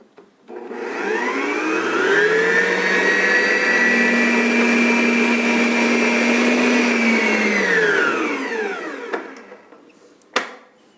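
A stand mixer beats gluten-free dough in a steady, loud motor whine that ramps up, holds evenly for about seven seconds, then winds down, followed by a couple of sharp knocks.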